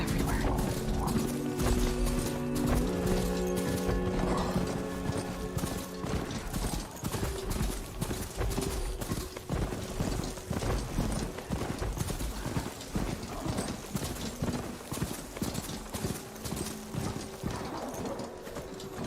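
A mount's hooves clip-clop in a steady trotting rhythm in the video game Horizon Forbidden West, loud and close, with a brief whinny and game music early on and some voices over the hoofbeats.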